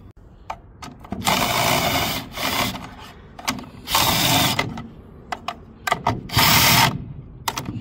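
Power tool or impact driver tightening bolts and nuts on a semi trailer electrical box and cover, in three loud bursts of a couple of seconds each, separated by quieter clicks and handling noise.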